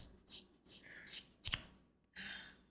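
Scissors snip through hair in a few separate, close cuts with brief gaps between them, the strokes quiet and crisp against a faint background.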